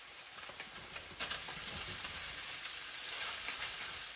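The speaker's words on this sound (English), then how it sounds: "Everything's starting to get a little nice and sauteed. It's time to add in the potatoes." Potatoes sautéing in a pan for a German dish, a steady broadband sizzle and crackle of frying that thickens slightly partway through, close and continuous with no talking.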